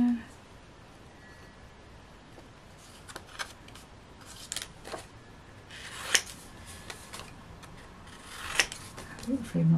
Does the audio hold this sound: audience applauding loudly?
no